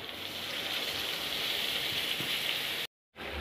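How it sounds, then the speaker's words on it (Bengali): Water goes into a pan of frying okra and potato, producing a dense, steady hiss like rain on a surface that holds evenly, then breaks off briefly near the end. "দিয়ে দেবো জল।"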